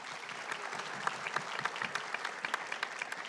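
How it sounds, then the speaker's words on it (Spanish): An audience at a public accounting congress breaks into brisk applause, a steady patter of many clapping hands heard at moderate distance for a few seconds. "Un fuerte aplauso para él."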